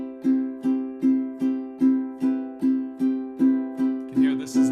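Ukulele strummed with the finger pads in a straight, even rhythm without swing, about a dozen regular ringing chord strokes played close and clear, with brief talk at the very end.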